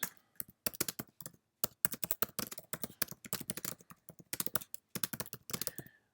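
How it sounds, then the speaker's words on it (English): Fingers type a short note on a computer keyboard in bursts of rapid, light clicking with brief pauses between words, close and fairly quiet. "I'm just going to type a little note"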